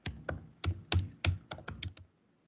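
Typing on a computer keyboard: about ten distinct keystrokes in an uneven, quick rhythm, close and clear, ending with a brief silence.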